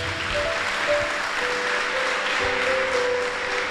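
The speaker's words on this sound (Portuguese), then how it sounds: "Palmas para Jesus." Church congregation applauding for Jesus during a Portuguese-language service, steady dense clapping throughout with a faint sustained tone underneath.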